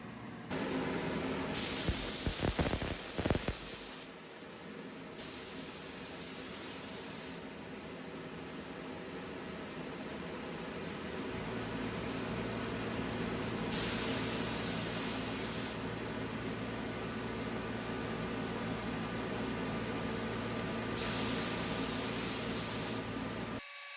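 Primer spray gun fitted with a 1.8 tip spraying metal flake in a shop: three long bursts of loud hissing spray separated by pauses, over a steady background hum.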